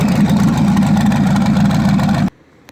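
An old Impala engine running with a slight skip, a loud close rumbling idle with an uneven throb that cuts off abruptly, leaving near silence and one faint click.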